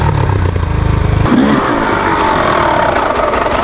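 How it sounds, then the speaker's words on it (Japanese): An old Honda XR600 dirt bike engine that has become hard to start gives a low, lumpy rumble for about a second, then cuts to a steady broadband rush of noise with no voices. "この辺からエンジンのかかりが本当悪くなってきた時ですね"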